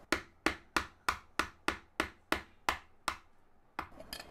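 A mallet strikes a gouge chisel cutting into an ash wood bowl blank, ten sharp, evenly spaced taps close by, followed by a couple of quicker, softer knocks at the end.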